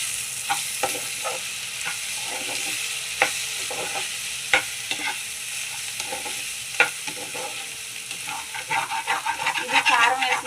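Spiced potato curry with ginger paste sizzles in a pan while a spoon stirs it continuously, giving a steady frying hiss with regular scraping strokes and clinks that grow busier toward the end.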